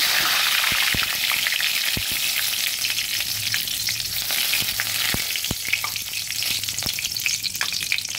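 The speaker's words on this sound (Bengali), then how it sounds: "কড়াইতে তেল দিয়েছি, তেলও গরম হয়ে গেছে। এবার আমি একটা তেজপাতাকে ছেড়ে দিই।" Steady crackling sizzle of a bay leaf frying in hot oil in a kadai close by, with scattered sharp pops throughout.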